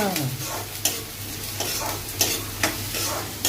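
Oil sizzles and crackles steadily in a pan as spices fry for dal tempering, with periodic stirring scrapes punctuating the frying.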